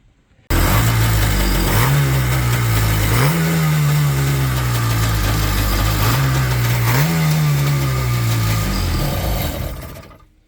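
Kawasaki sport cruiser motorcycle engine, unused for a couple of years, fires up and runs steadily and loud, with throttle blips raising the pitch at intervals before settling back to a fast idle.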